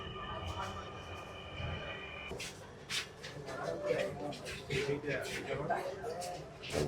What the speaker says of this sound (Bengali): আবার ছেড়ে দিল আমাদের মেট্রো রেল গন্তব্যের উদ্দেশ্যে